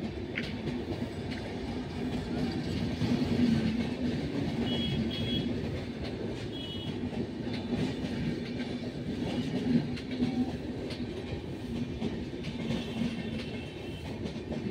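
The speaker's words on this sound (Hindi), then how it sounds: "19037 जो कि बरौनी से बांद्रा के लिए जा रही है" The Barauni–Bandra Avadh Express rolls into Firozabad station with a steady rumble and rhythmic clickety-clack of wheels over rail joints, close and sustained throughout.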